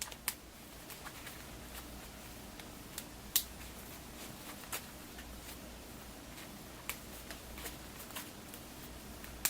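A deck of complication cards is given a quick shuffle during a GI Joe deck-building card game. Faint, sparse soft clicks and snaps come from the cards over a quiet background, with no one speaking.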